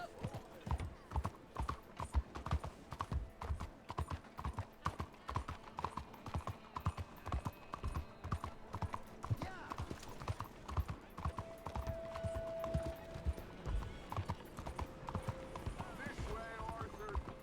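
A horse from Red Dead Redemption 2 gallops with steady, rapid hoofbeats, while voices talk over the running hooves and a brief whinny-like tone rises midway.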